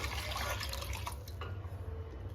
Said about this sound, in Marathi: मागच्या डब्यामध्ये डाळ होती काही त्यामध्ये आपल्याला आता पाणी घालायचं